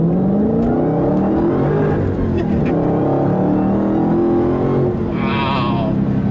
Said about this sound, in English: you're going to hear that exhaust when you're on throttle